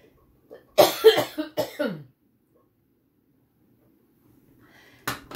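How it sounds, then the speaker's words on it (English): A harsh cough bursts out in a quick cluster of several hacks, close and loud, followed by silence and another short cough at the end. "Seems like whenever I start talking much, I start to cough."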